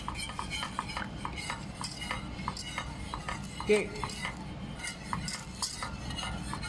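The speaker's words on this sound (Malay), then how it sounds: "kita kacau sehingga dia betul-betul mendidih" A wire whisk scrapes and clinks rhythmically against a pot as a sauce is stirred until it boils, with a brief spoken word partway through.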